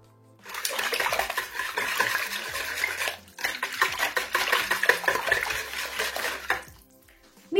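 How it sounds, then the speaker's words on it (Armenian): Close-up clatter of a utensil working eggs and softened butter in a bowl, with quick rhythmic scraping and tapping in two bursts separated by a brief pause. "2 ձու և 110 գրամ փափկեցրած կարագը։ Այս ամենը լավ խառնում ենք։"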